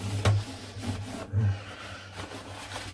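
Lemon oil being rubbed by hand into the wooden body of a 1970s acoustic guitar, soft rhythmic scrubbing strokes in close, quiet bursts.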